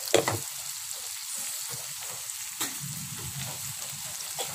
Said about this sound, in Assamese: মই এতিয়া পিঁয়াজখিনি ভাজি লৈছোঁ।